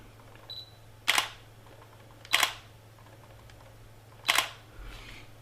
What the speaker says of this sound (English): So that's the difference in the shutter sound between the two.